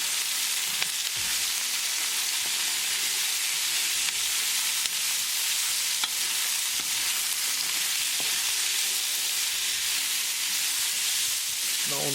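French beans sautéing with onion, ginger and garlic over high heat, a dense, constant hissing sizzle with occasional soft stirring knocks, close and fairly loud without a break.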